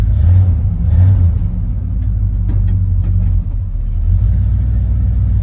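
A car's engine idles steadily right after a new radiator install, a low continuous rumble close by with slight swells as it settles, no talking heard.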